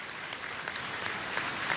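An outdoor audience at a cereal-sowing launch event applauds the armed forces in a brief, steady burst of clapping with no voices on top.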